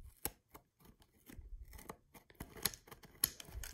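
Tape being cut and torn off the bottom of a Beyblade box during an unboxing, giving a few sharp, close snips and rips spaced irregularly over a quiet background.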